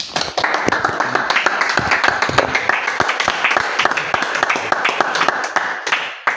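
A church congregation claps steadily in praise of the Lord, a dense, continuous patter of many hands held at an even loudness for several seconds before it stops abruptly.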